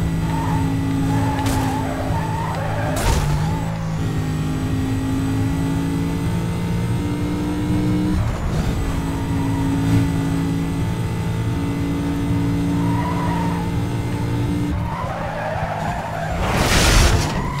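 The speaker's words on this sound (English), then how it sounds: "Not exactly the perfect way to drift" Need for Speed Most Wanted gameplay: a car drifts with long tire skids and squeals over a constant engine drone, with revving shifts and a louder screech near the end, all without speech.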